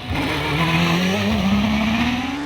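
A Gould hillclimb race car with a Nicholson McLaren V8 engine howls under hard acceleration on a hillclimb course, its engine note rising steadily, loud and close, with faint tire noise.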